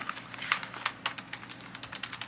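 Steady clicky typing on a new USB computer keyboard, quick even keystrokes close up with no talking over them.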